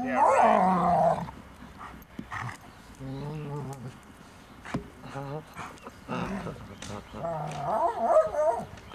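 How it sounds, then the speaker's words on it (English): A dog, jokingly called a vicious attack dog, yips and barks in short bursts between stretches of people talking nearby, the voices and dog sounds overlapping throughout. "Vicious attack dog, huh?"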